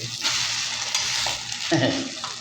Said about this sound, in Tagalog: Tapos ilalagay natin sa mainit na mantika.